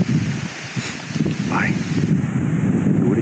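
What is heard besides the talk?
strong wind blowing at a mountain campsite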